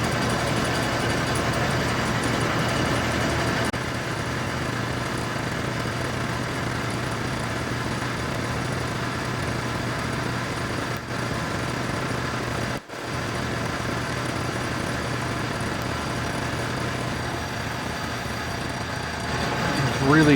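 A metal lathe cuts a replica Return of the Jedi lightsaber part, giving a steady motor hum and cutting whine that runs unbroken, with one brief dip midway.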